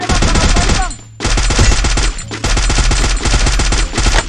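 Loud, close bursts of rapid automatic gunfire in a battle royale video game, several sustained volleys separated by brief pauses, heavy and continuous.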